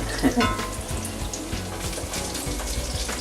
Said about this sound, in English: I'm especially hungry when garlic is cooking